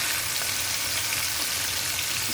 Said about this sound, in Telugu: బాగా వేయించుకుంటున్నాను చేపలు